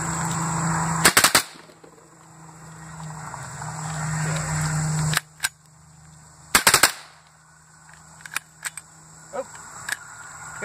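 Super Colibri rounds are fired at milk jugs downrange in loud, sharp bursts of shots, with two clustered volleys and then scattered single reports and clicks between quieter pauses.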